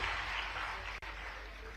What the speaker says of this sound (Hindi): एक बार जोरदार तालियां अपने अभिनंदन स्वागत में भी देंगे सज्जनों